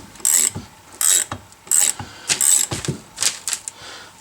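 Ratchet wrench turning a bolt threaded into a Datsun 620 kingpin cap to draw it out, a series of about six close, sharp clicking strokes in uneven rhythm with short pauses between, loud and alone.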